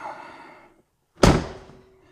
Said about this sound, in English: Under here, there's a little latch. You can open the door.